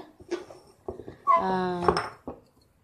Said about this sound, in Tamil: இது ஓபால் கிளாஸ் பவுல்ஸ் அப்படின்னு சொன்னாங்க. இது மல்டி பர்பஸ் பவுலு.